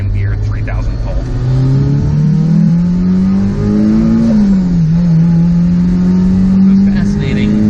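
Mazda Miata with a Rotrex supercharger pulling hard in second gear from about 3,000 rpm, the engine note climbing steadily with a rising whine, loud and close from inside the car, with a voice over it.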